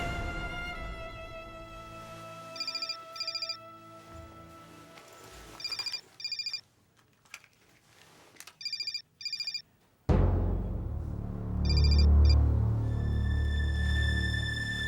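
A telephone rings in repeated pairs of short electronic trills, loud and close, with no voices over it; near the end the ringing continues faintly beneath a swell of dramatic music.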